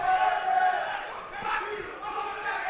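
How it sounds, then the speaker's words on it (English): A boxing crowd roars and cheers for Kevin Torres during his bout against Andrew Rodgers, a sustained swell of many voices that rises and falls. "The crowd now coming alive for Kevin Torres"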